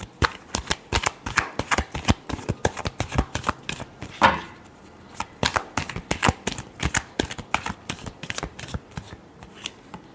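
Tarot cards shuffled in quick, close riffling bursts, a steady run of crisp flicks and snaps with one brief pause, no voice over it.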